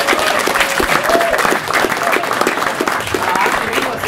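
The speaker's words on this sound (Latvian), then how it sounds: "Aplausi!" Loud, dense audience applause fills the room at a Latvian-language live event, continuous clapping with crowd noise and some voices mixed in.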